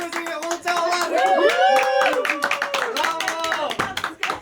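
An audience claps for Shak, a dense burst of applause heard close and loud beneath excited voices and cheering.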